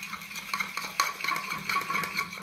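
Surf detergent and a spoonful of Harpic paste are stirred together in a bowl, producing a steady scraping, clinking stir with repeated small strokes at close range and no talk.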